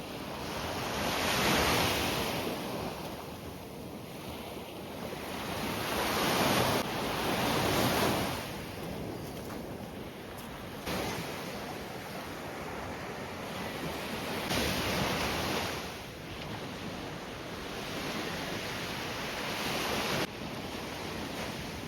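Black Sea waves wash onto the shore at Chornomorsk after a storm in slow surges, each swell rising and falling over a steady roar of surf and light wind.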